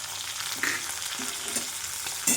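Greens stalks seasoned with salt and turmeric sizzle in a pan for posto, a steady close frying hiss with a few soft stirring clicks and a sharper scrape at the end, no voices.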